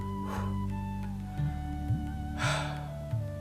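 A slow, deep breath during a meditation session rises and fades twice, soft and close, over a steady sustained musical drone.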